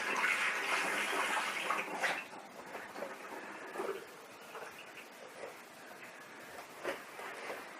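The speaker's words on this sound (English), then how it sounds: "Just give it a little rinse out under the tap." Running tap water rinses an espresso portafilter at a sink, a steady close rush of flowing water with small splashes and clatter as the metal basket is turned under the stream.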